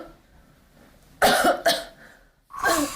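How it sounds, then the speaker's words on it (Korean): A woman with a brain blood-vessel condition coughs heavily, three hard, close barking coughs in quick succession with a short gap before the last, harsh and chesty with no speech. "기침을 되게 심하게 하시는 것 같은데?"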